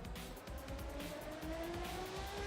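Chinese race car engine in the Assetto Corsa racing game, a continuous aggressive roar with a slowly rising pitch as it accelerates, loud and steady with no talk.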